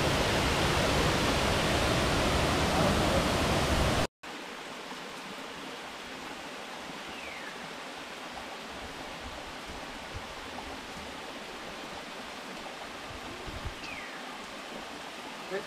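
A small waterfall at a tourist spot in Bohol gives a steady broadband rush of falling water, loud at first and then softer and more distant after a sharp cut.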